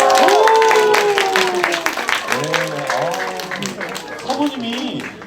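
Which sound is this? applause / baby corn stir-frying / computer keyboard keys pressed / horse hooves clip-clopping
applause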